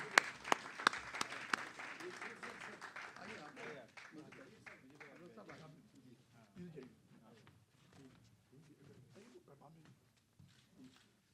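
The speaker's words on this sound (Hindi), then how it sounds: "जोर से जरा ताली।" Audience applause at the Prem Utsav 2024 award ceremony, a burst of loud clapping that thins and fades over several seconds, with faint voices murmuring beneath.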